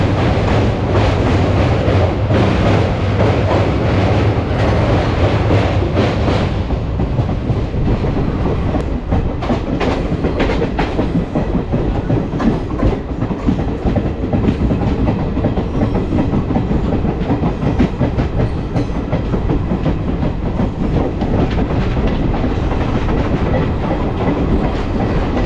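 A passenger train runs along its line toward Sevoke, heard from aboard as a loud, continuous rolling roar with steady clickety-clack of wheels over rail joints, with no one speaking.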